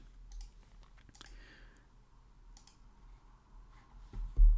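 Mouse clicking on a proceed button while setting up an Amiga 500 hard disk file, heard as a few faint, sparse clicks up close over a quiet background hum.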